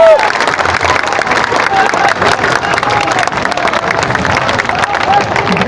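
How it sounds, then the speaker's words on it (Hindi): A large crowd at a Jan Suraaj Party rally in Patna applauds and cheers for Manoj Bharti, a sustained, dense roar of clapping with shouts mixed in. "मनोज भारती जोरदार ताली बजाइए।"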